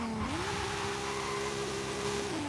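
A 1998 Toyota Supra with a 1600 hp drag tune launches hard in Forza Horizon 5. The engine holds a steady high-rev drone, then pitches up sharply as the clutch drops, staying loud and sustained throughout.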